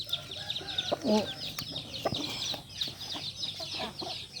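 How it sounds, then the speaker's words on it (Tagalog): Backyard hens cluck and chatter in short, close bursts over a busy high twittering of birds, with a brief voice exclaiming once. "Yun yung mga inahin ko yan mga kakrok."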